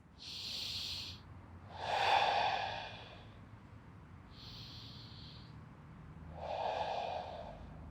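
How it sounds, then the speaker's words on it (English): Slow diaphragmatic breathing during a ball massage for tight hips, with about four close, soft breaths alternating between hissing nasal inhales and deeper breathy exhales, with no talking. "Breathe into the ball using our diaphragmatic breath."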